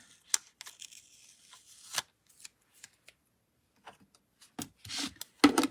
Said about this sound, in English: So now we can just take this Post-it tape off.